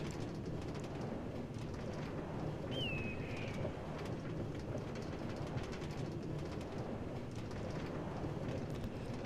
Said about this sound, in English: So I guess we're not riding home in a thunderstorm.